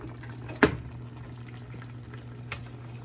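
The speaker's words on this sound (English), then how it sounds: "Now everything is boiling" Water boiling in a pot on a stovetop with pork chops and potatoes, a steady low bubbling simmer with a couple of sharper pops or clinks standing out.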